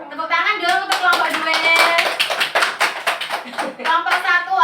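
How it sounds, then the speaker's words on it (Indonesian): Schoolchildren in a classroom clap briskly for a student group, quick, uneven handclaps mixed with voices calling out over the clapping. "Tepuk tangan dong untuk kelompok"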